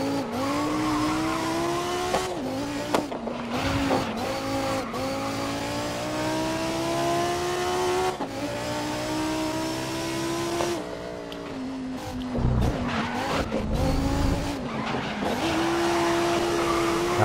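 Race cars in the GRID racing video game roar through gear changes with rising and falling engine whine, punctuated by tire squeals and brief skids, loud and continuous with no voices.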